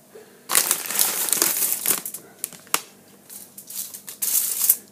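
A plastic chip bag is handled and crinkled close up after being opened, with bursts of loud crackling and rustling in uneven clusters separated by brief pauses.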